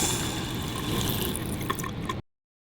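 Water rushes and gurgles steadily for about two seconds as household pipes drain after the main is shut off, close and fairly quiet, then stops abruptly into silence.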